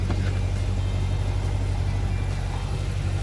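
A 2009 Corvette Z06 idles indoors with a steady, low, rumbling drone, close and even throughout with no talking.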